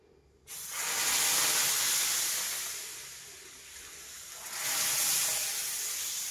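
Rava dosa batter sizzling on a hot tawa: a sudden loud hiss bursts in, holds steady, eases slightly, then swells again as more batter hits the pan, close and alone without talk.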